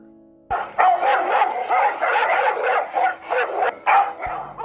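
A dog barks and yelps repeatedly in quick succession, close and loud, with brief pauses between bursts.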